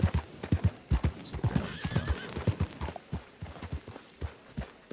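A horse's hooves clip-clop in an uneven walking rhythm close by, and a whinny rises over the steps partway through.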